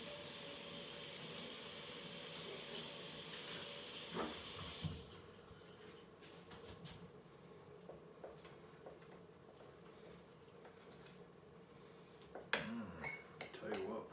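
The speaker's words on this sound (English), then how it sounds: "First I'm going to have to wash my knife." A kitchen faucet runs hard for about five seconds while a knife is washed, then the water stops and quieter clinks, handling noises and scattered small knocks of utensils follow, with a few louder bumps near the end.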